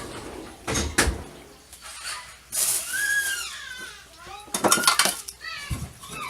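A metal strainer is handled in a home kitchen while a sauce is being strained, giving several bright clanks and scrapes with a squeaky tonal scrape in the middle, loud and close, with a voice heard briefly.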